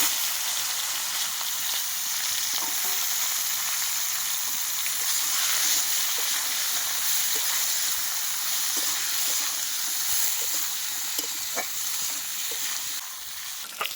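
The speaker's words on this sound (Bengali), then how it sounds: "এই তেলের মধ্যে দিয়ে দিচ্ছি কচুলতি।" Taro stolons sizzle in hot oil seasoned with whole cumin and bay leaf, a continuous close crackling fry with small pops and occasional stirring scrapes, fading slightly near the end.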